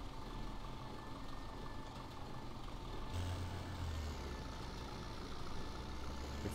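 In Farming Simulator 17, a tractor engine labours under heavy PTO load with a low, continuous, strained drone. The sound is moderately distant and steady, with a deeper rumble rising partway through.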